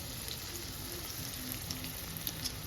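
Chicken breast pieces frying in hot oil, a steady dense crackle and hiss with faint pops, continuous and close, with no voices.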